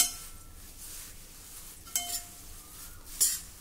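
Flattened rice (poha) being stirred with oil and turmeric, soft scraping and light clinks of a spoon against the pan, faint and close with no talking.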